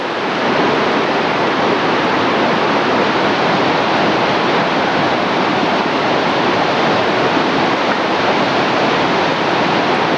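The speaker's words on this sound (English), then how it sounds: "And right beside the waterfall here" A waterfall at Pierre Grey's Lakes near Grande Cache roars as a steady, loud broadband rush of falling water, close by and unbroken, with no talk.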